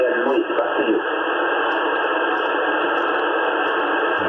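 Yaesu FT-710 radio receiver with RF gain fully open, a loud, steady wash of band noise and hiss with a strong station coming through, continuous throughout.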